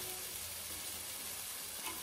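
Ingredients frying in a pressure cooker for a quick biryani, giving a steady, close sizzle and crackle that runs unbroken, with faint stirring and no voices.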